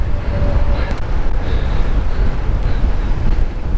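Cold headwind buffeting the microphone while riding outdoors, a loud, steady low roar of gusting wind noise that fills the whole stretch, with no talking heard.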